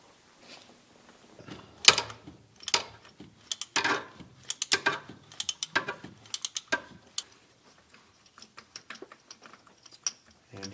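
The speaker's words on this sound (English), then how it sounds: "we'll use our deep well socket and remove the sensor itself" A deep well socket on a ratchet backs out the oil pressure sending unit on a Jeep 4.0L, producing quick close clicking ratchet bursts in an uneven rhythm that thin out toward the end.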